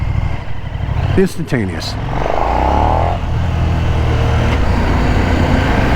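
A KTM Super Duke motorcycle accelerates hard, its engine note climbing steeply in pitch, close and loud beneath a man's speech.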